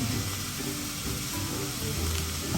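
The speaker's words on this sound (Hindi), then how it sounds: "बस इसको सॉटे होने दें" Stir-fry vegetables sauté in a hot pan, giving a continuous loud sizzle and hiss with faint shifting crackle throughout and no talk.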